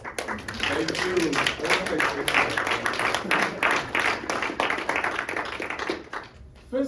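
An audience claps at a spoken-word Mother's Day tribute, giving brisk and fairly close applause for several seconds with voices murmuring over it.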